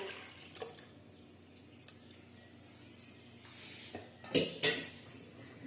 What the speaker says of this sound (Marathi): एक स्टीलचं पातेलं ठेवलं मोठं